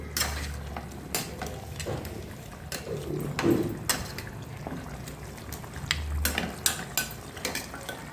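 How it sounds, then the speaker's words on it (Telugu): A spoon stirs and scrapes through mutton curry gravy in a pan on a medium flame, with irregular clinks and soft wet mixing over a low sizzle, close and steady, with no talking. "పెట్టుకున్న తర్వాత ఇదంతా ఒకసారి మంచిగా కలుపుకోవాలి."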